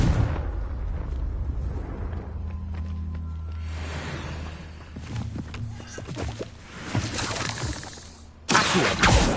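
A Confringo spell blast in Hogwarts Legacy goes off as a shattering, crackling explosion with a bright burst near the end, following rumbling game effects.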